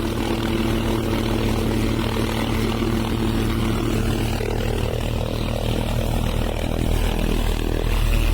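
A rescue helicopter hovers close over a steep mountain slope during a skier rescue, its engine and rotor making a loud, steady drone with a constant low hum that runs through the whole stretch without talk.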